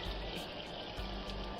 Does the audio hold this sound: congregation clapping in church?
no